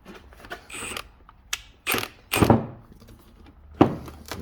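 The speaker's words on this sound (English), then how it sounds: "And I use the gun to tighten it back up." Impact gun tightening a rear shock bolt on a 2013–2020 Ford Fusion, heard as several short, sharp mechanical rattling bursts with gaps between them, close and fairly loud.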